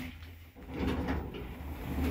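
A 2019 Orona machine-room-less lift door in a five-story building slides with a muffled rumbling glide and a soft thud, heard at moderate distance against a low background hum.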